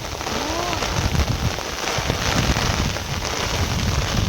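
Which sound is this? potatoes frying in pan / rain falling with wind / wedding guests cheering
rain falling with wind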